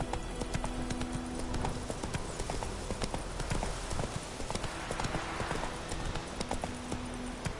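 A horse gallops in The Witcher 3 on PS4, with rapid continuous hoofbeats that stay steady and moderately close throughout.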